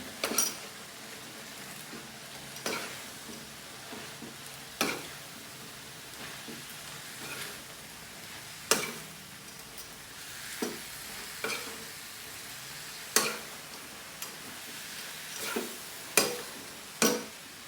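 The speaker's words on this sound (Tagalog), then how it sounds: "hahaluin natin to." Chicken toge with carrots and beans sizzling in a pan, a continuous frying hiss broken by regular stirring scrapes and utensil knocks every second or two.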